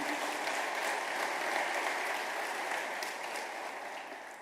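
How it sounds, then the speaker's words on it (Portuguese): A church congregation applauds after a scripture reading, a steady, dense wash of clapping that holds evenly throughout and tapers slightly at the end, with no voices over it. "Um aplauso pela palavra do Senhor"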